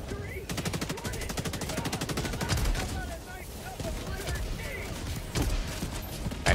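A deployed sentry turret in the Helldivers 2 video game fires rapid, dense automatic bursts, with a few heavier blasts mixed in, close and sustained through the whole stretch.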